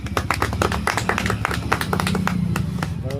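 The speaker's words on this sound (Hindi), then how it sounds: "रुकिए ताली मारिए।" Several people clap together at a tile adhesive work site, a steady run of sharp hand claps lasting a few seconds, close and fairly loud with a low hum underneath.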